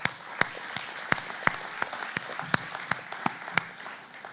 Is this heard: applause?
yes